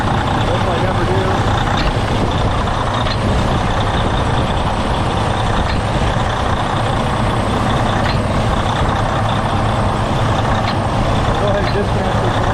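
A 2011 Freightliner truck with a DD15 diesel engine runs at a loud, steady, dense rumble throughout, close by, with no clear start transient.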